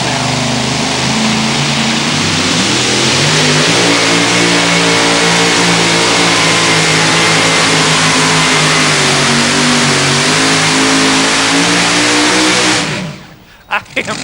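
The Petro Trucking 2WD pulling truck at the 2008 NTPA Grand Nationals in Brandenburg, Kentucky, roars at full throttle for about thirteen seconds, a loud, sustained, slightly wavering engine howl that cuts off abruptly near the end.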